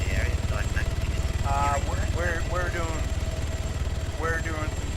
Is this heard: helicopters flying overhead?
yes